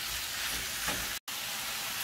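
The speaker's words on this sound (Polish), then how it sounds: "Dodajemy mięso. Hop. Mieszamy wszystko razem i troszeczkę podsmażamy." Meat for lasagne sizzles loudly in a hot pan as it is stirred, a dense, steady frying hiss heard close up, with a brief dropout near the end.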